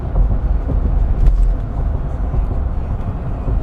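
A 2011 Chevrolet Silverado LTZ pickup with a 6.2 liter engine driving, a loud steady low cabin rumble of engine and road noise with no talk.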